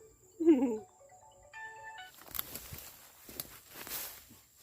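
A mobile phone ringtone chiming outdoors during eel fishing in Thailand, a short electronic melody of stepped tones followed by rustling and footsteps nearby.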